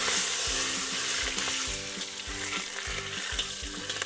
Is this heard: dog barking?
no